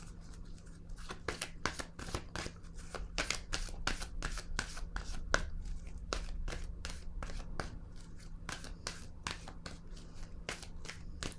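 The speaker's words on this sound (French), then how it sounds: "Je vais déposer une autre carte." Tarot cards are handled and set down on a table in a long run of quick, crisp slaps and flicks, fairly quiet and close, with no talk.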